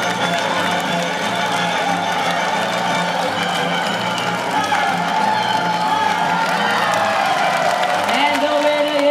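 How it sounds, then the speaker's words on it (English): Supporters at a bird race cheer and shout continuously, a dense crowd roar with whoops and children's voices throughout, close and loud. "Now supporters, don't forget to cheer louder for your birds."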